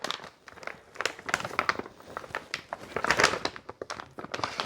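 Plastic packaging holding home-brewing ingredients is opened by hand, giving a run of dense, loud crinkles and crackles with irregular bursts, close up and with no voice over it.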